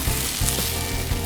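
Onions sizzle steadily beneath bison burgers on the warmer side of a grill, a close, continuous hiss with a few faint low thumps and no talking.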